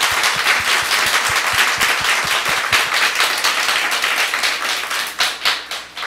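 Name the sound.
church congregation applauding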